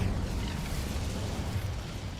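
An Incendio fire spell cast in a video game, a loud roaring rush of flame with a deep rumbling burst that holds steady for about two seconds.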